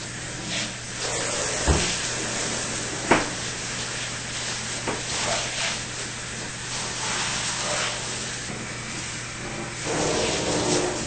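A power cleaner sprays through a 72-inch hose in a bathtub, giving a steady loud hiss with a continuous low hum and a few brief knocks, no talk.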